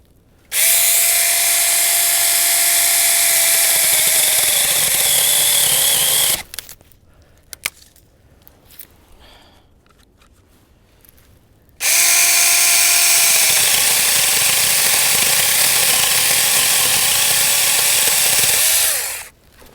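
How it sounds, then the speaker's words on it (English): An ASJMREYE 6-inch battery mini chainsaw cuts down a small outdoor tree in two long, loud, steady whining runs of roughly five and eight seconds, separated by a quiet pause with small knocks. "I'm actually going to see if I can cut this tree down with this saw"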